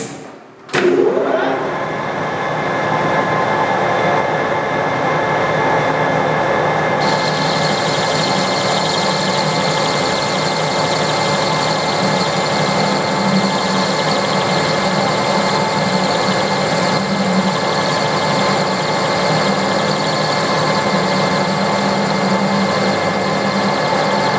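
A metal lathe runs with a steady, loud mechanical whine and hum while a dulling insert parts off a workpiece, the tone holding constant for the whole stretch after a brief startup.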